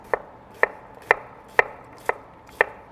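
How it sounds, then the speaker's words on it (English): A knife dices onion on a cutting board in six evenly spaced, crisp chops about half a second apart, close and distinct over a quiet background. "We're gonna dice up a couple cups of onion"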